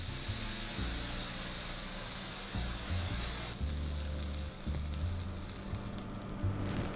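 A heated spoon pressed onto sugar atop sweet potato brulee gives a steady close sizzle and hiss, with low tapping and scraping underneath.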